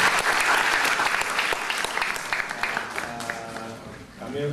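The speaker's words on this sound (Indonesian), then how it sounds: "Jadi tepuk tangan dulu." Crowd applause at an Indonesian anti-corruption film event, steady dense clapping filling the room for several seconds, then thinning toward the end as a voice begins speaking over it.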